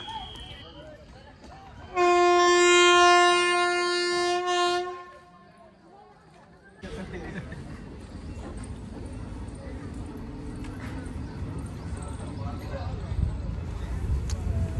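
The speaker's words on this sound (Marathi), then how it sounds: "आपली गाडी आता मुरुड रेल्वे स्टेशन येथून निघालेली आहे" A special passenger train leaving Murud railway station sounds a loud, sustained horn blast for about three seconds, followed by a short lull and then a steady rumble of the moving train.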